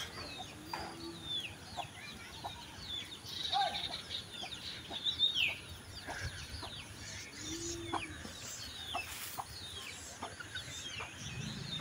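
Hens and chicks cluck and peep in a rural yard during the rainy season, with soft scattered calls and chirps over a steady outdoor background.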